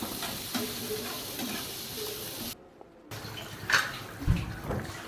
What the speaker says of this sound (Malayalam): ഇത് കുറച്ച് ബീഫ് എടുത്തിട്ട് നമ്മൾ അവിടെ ഫ്രൈ ആക്കുന്നുണ്ട്